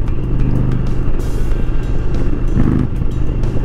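A Dodge Challenger in sport mode with a TAB Performance exhaust and no catalytic converter, its engine a loud, steady, rumbling drone heard close up from inside the car, with no talking.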